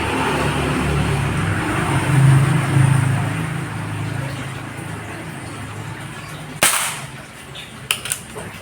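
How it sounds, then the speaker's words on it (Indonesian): Two sharp, brief cracks of a Marauder air rifle firing pellets ring out several seconds apart over steady outdoor background noise and a low rumble. "Tembakan pertama sudah dilesatkan."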